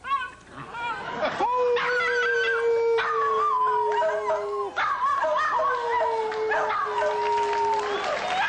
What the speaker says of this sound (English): How long has Woof been singing?